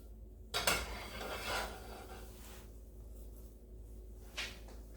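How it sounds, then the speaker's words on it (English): A metal pan clatters down on a hard surface, followed by a few softer scraping knocks and clinks in a quiet room. "So now I'll set my frying pan to the side."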